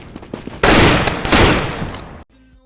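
A loud burst of gunfire used as an intro sound effect, a dense roaring volley lasting under two seconds that cuts off abruptly, following a few short sharp hits.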